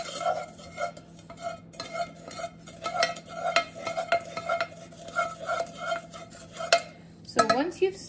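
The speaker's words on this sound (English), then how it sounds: "So once you've stirred everything, it should be pretty mixed together." Sage and rosemary being stirred together in a saucepan, a spoon scraping and clinking against the pan in a steady repeating rhythm, close and moderately loud, with no talking.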